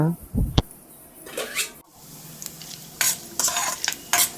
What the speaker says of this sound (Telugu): జీడిపప్పు వేసుకొని బాగా వేగిన తర్వాత